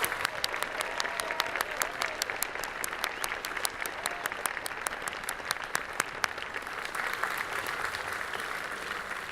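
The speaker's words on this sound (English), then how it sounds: "Please join me in giving them a round of applause." A commencement audience at a 2015 undergraduate ceremony gives a sustained round of applause for the class of 1965, dense steady clapping filling the whole stretch at moderate distance.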